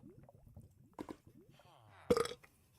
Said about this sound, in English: I'm also burping a lot